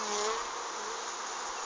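Bees buzzing around a hive: a continuous, fairly close insect drone that holds steady throughout with no talking.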